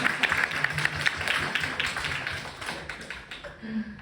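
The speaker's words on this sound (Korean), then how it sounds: "큰 박수 한번 주십시오" A congregation at a Thursday praise-and-worship service in Brisbane, Australia, applauds: a brisk, fairly dense run of hand claps, moderately loud and fading slightly before a low tone enters at the end.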